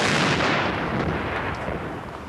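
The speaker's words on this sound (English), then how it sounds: "could have heard the two explosions that severed radio contact with his people" A powerful explosion toppling a transmission mast, a loud broadband blast with a long rolling roar that slowly decays.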